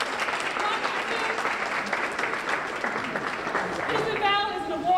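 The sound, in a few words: applause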